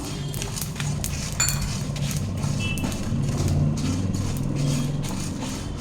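Byadgi and Guntur dried red chillies roast in a pan, giving a dense, continuous crackle with sharp ticks and scraping clinks of a utensil against metal, close and fairly loud, with no speech.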